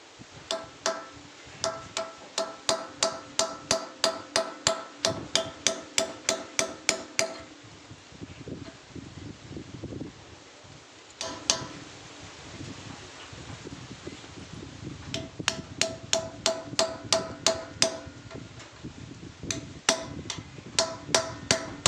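Repeated sharp metallic hammer strikes driving a pin into the bushing of a Chang 246F tractor plough hitch, in quick regular bursts, pausing briefly midway before resuming, ringing bright against metal.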